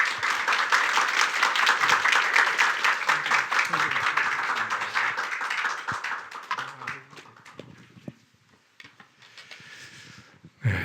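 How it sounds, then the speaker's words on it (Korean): Church congregation applauding to welcome the pastor at a Sunday service, a dense, loud wash of clapping that gradually thins and fades out over several seconds, with a few scattered claps near the end. "우리 목사님 나오실 때 환영의 박수로 맞아주시면 감사하겠습니다"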